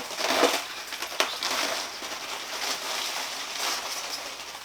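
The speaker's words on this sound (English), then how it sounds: "Taking the plastic off the body." Protective plastic film being peeled off a Losi LMT Grave Digger 2.0 RC monster truck body, a steady crinkly tearing hiss with a few sharper crackles, close up and without talk.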